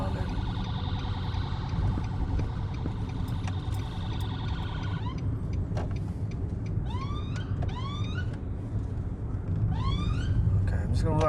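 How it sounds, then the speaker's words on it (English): Wailing ambulance siren close behind a car on a road during a driving lesson, its rising and falling sweeps repeating loudly over steady engine and road noise, with a voice speaking partway through. "There's an ambulance right behind us."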